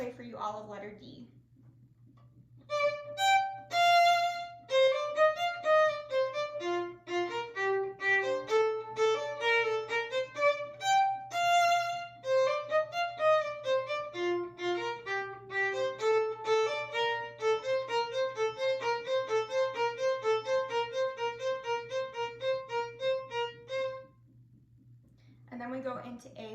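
Letter D of the Gavotte from Mignon played on a melodic instrument as a lively run of clear, separate notes over a steady low hum, fairly close and alone, with brief quiet at the start and end.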